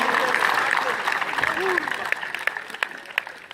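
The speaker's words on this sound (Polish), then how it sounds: "Wielkie brawa dla Szymona, wielkie brawa dla Mateusza" A crowd applauds athletes Szymon and Mateusz at an elite men's CrossFit-style workout competition, clapping under an announcer's amplified voice and thinning into scattered claps toward the end.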